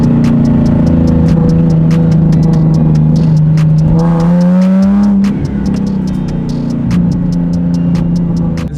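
Two cars, a Tesla and a turbocharged Nissan 370Z, accelerate hard side by side in a roll race from about 20 mph, loud engine note climbing steadily with a brief shift dip, continuous and close throughout.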